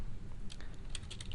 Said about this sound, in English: add the name to the header by typing the name Tom Shelby